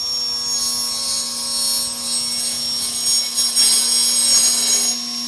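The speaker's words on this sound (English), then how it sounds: "I can now run the faceplate through the saw with the foot attached and get a nice" A chop saw cuts through a wooden foot attached to a turning faceplate, a steady high-pitched whine with a strong tonal hum that rises into a louder grinding bite as the blade passes through the wood, with no talking.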